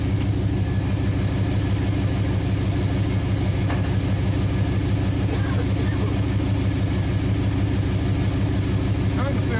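A 1946 Dodge truck engine churns as it tries to start after decades unused, giving a steady, rhythmic chugging that carries on without a break through the whole stretch.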